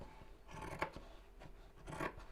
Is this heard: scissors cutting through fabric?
yes